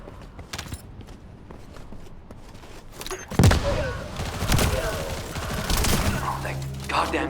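Gunfire from a weapon in the video game The First Descendant, at a dune base: sharp bursts and rattling shots that swell in the second half, loud and close, with voices talking over the action.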